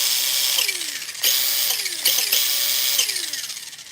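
Electric motor of an RC drift car running without turbo, a high whining buzz that rises and falls in repeated bursts, close and fairly loud.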